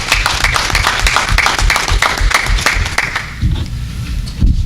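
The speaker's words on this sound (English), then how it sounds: "Y'all would just give him a round of applause." A small group at a city council meeting in Dillon claps for a newly welcomed staff member, close, uneven individual claps with some low rumbling handling noise, brief and fading toward the end.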